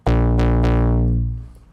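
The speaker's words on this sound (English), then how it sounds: "It's an emulation from the Bass Station that is an analog hardware synth from Novation" A deep, buzzy synth bass note from a plugin emulating the Novation Bass Station analog synth hits hard with two quick retriggers, then sustains and fades out over about a second, heard alone.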